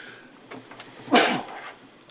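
A single short sneeze bursts out mid-clip during a city council meeting, preceded by faint room noise and small murmurs in a quiet chamber.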